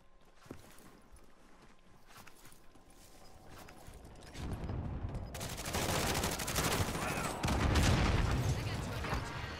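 Rapid gunfire in the battle royale shooter Call of Duty Warzone, building from sparse shots into dense, loud bursts over the second half, with players talking during the firefight.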